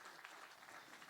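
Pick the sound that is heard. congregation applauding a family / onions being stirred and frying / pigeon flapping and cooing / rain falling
congregation applauding a family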